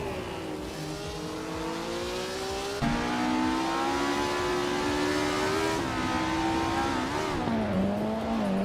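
Race car engines whine and rev continuously in a racing video game, several cars droning together with shifting pitch and a sharp gear change partway through, steady and fairly loud with no talking.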